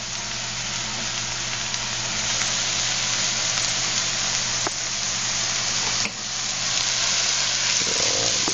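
Chopped carrots and multicolored sweet peppers for an eggplant dish sizzle in a pan on a turned-up stove, a steady, close frying hiss with faint crackles throughout and no talking.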